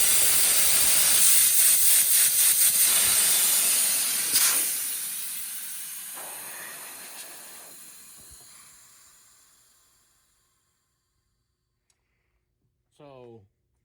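Compressed air blasts from a disconnected valve port on a Coats 7065ex tire machine as a loud, broad hiss that steadily fades over about ten seconds into near silence, followed by a brief tonal sound at the very end.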